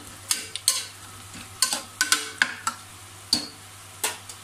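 Onion, tomato and garlic frying in a pan for a mulai keerai koottu are stirred with a utensil, giving a series of sharp scraping clacks at an irregular rhythm over a low sizzle.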